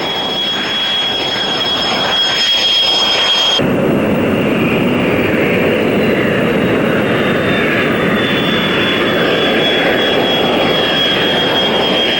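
F-16 fighter jet flying, a loud, continuous engine roar with a steady high whine that changes abruptly partway through as the aircraft passes, no voices.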